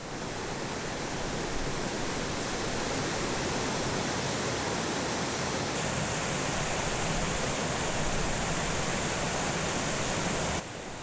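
Jiktang Falls in Cheorwon, South Korea, in winter, a wide, low river-wide waterfall pouring through ice, roars steadily and loudly, a dense unbroken rush of falling water crashing over rocks, with no other sounds.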